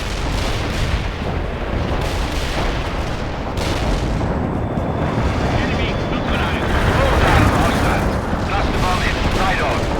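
A roaring, continuous barrage of blasts and rumbling gunfire fills a World in Conflict battlefield during an airstrike, dense and loud, with voices occasionally audible beneath the din.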